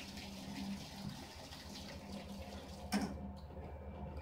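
Sanitizer drains from an Oceanpower soft serve machine, a faint steady trickle of liquid running out, ending with a short splash.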